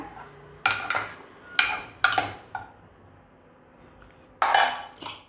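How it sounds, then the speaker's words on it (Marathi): A metal spoon clinks against the walls of a pressure cooker while mutton biryani is stirred with hot water, sounding as a few sharp, close metallic scrapes and knocks in separate bursts with quiet gaps between. "थोडं हलवून घेऊया"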